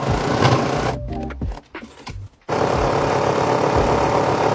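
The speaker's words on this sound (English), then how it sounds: "Before you get to the end, you wanna fold it in and sew over" A sewing machine stitches across a folded fabric edge on a reusable bag, its steady, close mechanical whir breaking into a few short stop-start bursts before it resumes at a constant hum.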